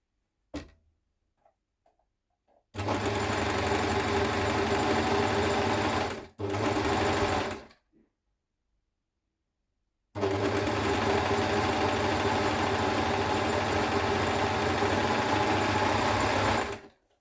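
Sewing machine stitching an angora wool men's sweater at home, running in steady loud bursts of about four seconds, a short one, then a long seven-second run after a pause, with no talk.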